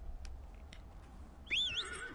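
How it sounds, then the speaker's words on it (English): A summoned horse mount in Dragon Age Inquisition gives a bright, wavering whinny near the end after a few soft hoof clops, over a low quiet game ambience. "Here's my horse."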